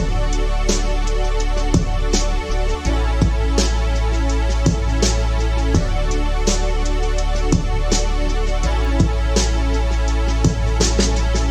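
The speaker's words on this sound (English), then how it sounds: "I'm gonna grab another Juno synth, because I just love Juno synths" Sustained Juno synth chords ring over a steady bass line, with a repeating drum-like beat driving underneath; loud and continuous with no talking.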